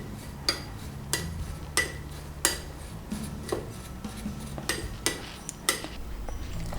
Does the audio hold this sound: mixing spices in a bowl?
yes